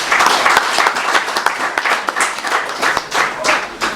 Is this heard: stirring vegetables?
no